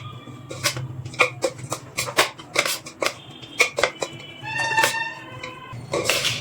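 Raw mango pickle being mixed by hand with spices and mustard oil, a close series of wet squelching and scraping strokes in an irregular rhythm, fairly loud with no talking.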